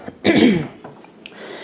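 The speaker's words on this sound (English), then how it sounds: "I need to get some water so I wouldn't keep clearing my throat" A woman clears her throat once with a rough, throaty burst, followed by a softer trailing rasp and a brief sharp click, close to the microphone in a quiet room.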